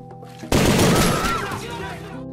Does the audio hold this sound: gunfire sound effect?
yes